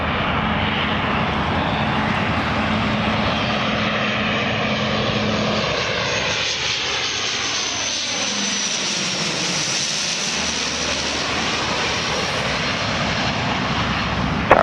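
An airliner landing on runway 24 right at Toronto Pearson International Airport in the evening: a loud, continuous engine roar that sweeps in pitch as the plane passes close by, steady throughout with no talk.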